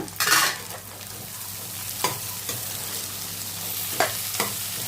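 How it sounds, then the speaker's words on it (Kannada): Potatoes frying in oil with fenugreek leaves in a pan, a steady soft sizzle broken by several sharp scraping stirs of a spatula at regular intervals, close and without voices. "ಈಗ ಆಲೂಗೆಡ್ಡೆ ಹಾಕಿ ಇದನ್ನು ಆಯಿಲಲ್ಲಿ ಸ್ವಲ್ಪ ಫ್ರೈ ಮಾಡ್ಕೊಳ್ಳೋಣ"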